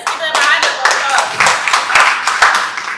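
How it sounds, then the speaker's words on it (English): Scattered hand clapping from an audience at a training and dialogue session, uneven individual claps rising and falling, fairly close, with some voices mixed in. "Let's give them a hand of applause."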